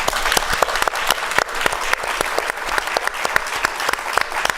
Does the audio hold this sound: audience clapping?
yes